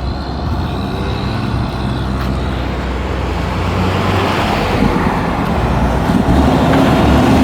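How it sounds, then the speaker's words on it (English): Steady road traffic on a Jamaican roadside, a continuous roar of cars, trucks and buses passing close by in a long line, loud and unbroken with no talk. "what a line of traffic"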